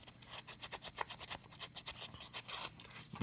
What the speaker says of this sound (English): all I'm going to do is just kind of rub it on this sandpaper